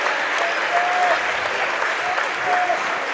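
Crowd applause at a high school boys' basketball regional playoff game, sustained clapping filling a gym for a senior leaving the court, with faint whistle tones over the steady clapping.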